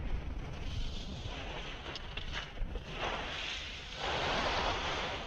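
Ocean surf on a beach near a nickel mine, with a steady, loud wash of breaking waves and wind buffeting the microphone at close range and no talking.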